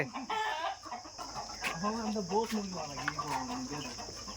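A chicken clucks in short, wavering calls close by, over a steady high chirring of crickets and faint background voices.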